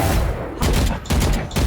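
Gunfire from a wallbang spot in the game Valorant, with shots punched through a wall in several dense bursts and short gaps between them, loud and close.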